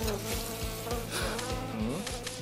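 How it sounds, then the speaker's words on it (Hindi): A cartoon fly buzzes continuously and loudly up close, its droning whine wavering in pitch, with a steady rhythmic background pulse beneath it. "ओह, एक मक्खी।"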